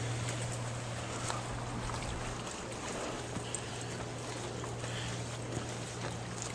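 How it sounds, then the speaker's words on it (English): A motorboat droning far off in a wild outdoor setting, a steady low hum under wind and faint ambient noise, with no one talking. "You can hear a motorboat"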